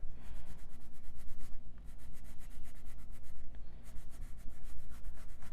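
Colored pencil rubbing hard on paper under heavy pressure, a steady rapid back-and-forth scratching with rhythmic strokes, close and continuous with only brief pauses.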